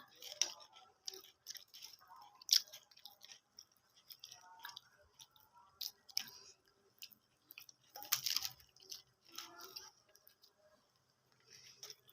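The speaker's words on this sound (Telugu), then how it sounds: "కట్ మిర్చి తిను." Someone eats crunchy cut mirchi chilli fritters, with close, wet crunching and chewing that comes in irregular bites and fades between mouthfuls.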